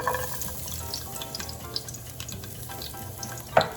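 Coarsely chopped garlic frying with homemade sofrito for Puerto Rican smoked herring with dumplings, a faint steady sizzle close by with a brief clatter near the end and no voices.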